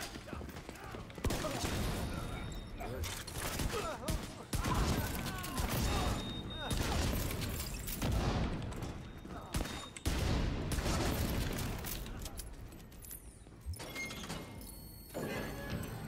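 Rapid bursts of automatic gunfire and weapon mechanisms crackle repeatedly during a Heroic Federal Emergency Bunker mission in The Division 2, dense and close with short pauses between volleys.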